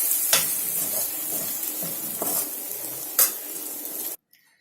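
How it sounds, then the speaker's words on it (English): Potato bhaji with lemon juice and coriander stirred in a pan with the gas switched off, giving a soft continuous scraping and faint residual sizzle, with a few louder spoon strokes before stopping abruptly. "pour in the lemon juice and the garnish of coriander and give it one final mix"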